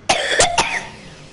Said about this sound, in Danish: Jeg hoster virkelig meget.